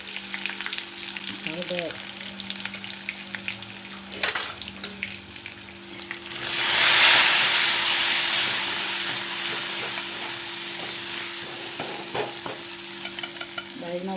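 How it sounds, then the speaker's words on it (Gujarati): Hot oil sizzles as a tempering of spices, curry leaves and turmeric goes into urad dal, opening with a spatula clatter and then swelling into a loud hissing burst that slowly fades into a gentler crackle. A brief spoken word is heard. "દાળનો વઘાર મસ્ત થઈ ગયો છે"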